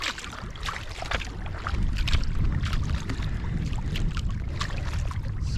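A canoe paddled quickly through Ontario wilderness water in light rain, with close, steady splashing and swishing strokes over continuous wind and rain hiss.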